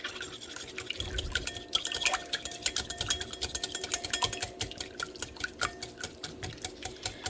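A butter mixture is poured slowly into milk for baked vanilla bean donut batter, giving soft liquid trickles and a rhythmic series of light stirring clicks against a bowl. The sound is close and quiet, with no talking.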